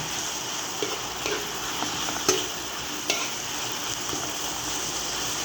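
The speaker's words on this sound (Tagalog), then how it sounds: "medyo gisa-gisa na yung ating kamatis" Tomatoes with a little chili sauté in a pan for chicken binagoongan, giving a steady close sizzle with faint stirring scrapes and a few light clicks of the utensil, no voices.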